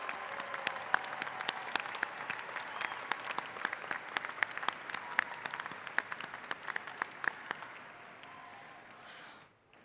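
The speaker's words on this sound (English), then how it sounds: "Join me in applauding all these graduates and alumni." Commencement audience applauding graduates and alumni, a dense sustained wash of clapping with sharp individual claps standing out, fading toward the end.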